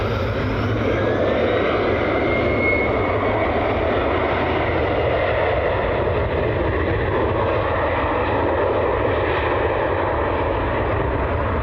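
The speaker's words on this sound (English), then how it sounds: "Southwest taxiing down our way as well now." A Southwest jet airliner taxis at Cleveland Hopkins airport, a continuous broad engine roar and whine holding steady throughout at moderate distance, with no talking.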